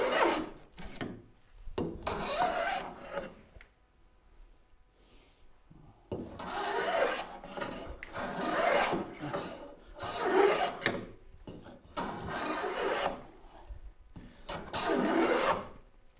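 A hand tool rasps and shaves the front bevel into a wooden Moxon vise in repeated strokes, each burst a second or two long with short pauses between, close and fairly loud.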